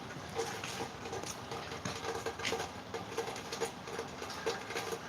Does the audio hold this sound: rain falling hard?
yes